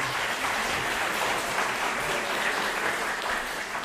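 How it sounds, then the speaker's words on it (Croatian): A steady, dense round of audience applause fills a book presentation at a cultural centre, with many hands clapping continuously at an even volume throughout. "Molim vas da ih sve pozdravite jednim aplauzom."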